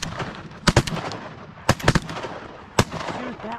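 Gunshots ring out at a pond during a duck hunt: a loud, close double report, then another pair about a second later and a final single shot, all over a quiet outdoor background.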